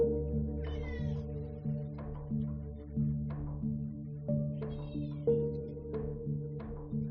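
A cat meows repeatedly indoors, giving about half a dozen drawn-out, wavering cries at uneven intervals over a constant low background hum.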